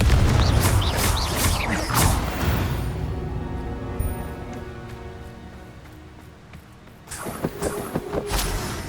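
An explosive spell going off in the Hogwarts Legacy video game, a loud booming blast that rumbles and fades away, followed by further impacts and crackling near the end.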